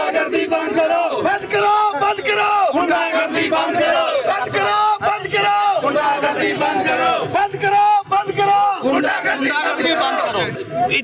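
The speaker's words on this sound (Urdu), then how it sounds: "یہ نعرے بازی ذرا ان کی دیکھیے گا" Protesting teachers at a street demonstration in Lahore chant slogans in loud rhythmic unison, a leader's calls answered by a crowd of voices, close and forceful with brief pauses between chants.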